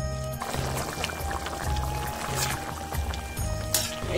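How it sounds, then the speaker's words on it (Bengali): Water poured into a pan of cooking vegetable stalks, a continuous splashing trickle over a sizzling, crackling background, close and moderately quiet for a few seconds. "এখন আমি এতে জল দিয়ে দেবো।"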